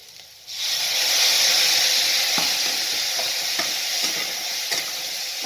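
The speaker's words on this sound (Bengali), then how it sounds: "লঙ্কা পাউডার সমস্ত নাড়াচাড়া করে সামান্য একটু জল দিয়ে" Eggplant masala with chilli powder bursts into a loud, close sizzle as a splash of water hits the hot pan, then keeps hissing steadily while a spoon scrapes through it in regular strokes.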